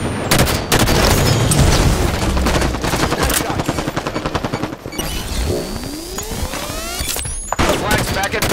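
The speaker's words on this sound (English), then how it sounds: "Enemy grenade." Grenade blast and rapid gunfire in a Big Team capture-the-flag match on the Basin map in the Halo 5 video game, with dense bursts of shots, a boom and a rising whine, with game voices over the action.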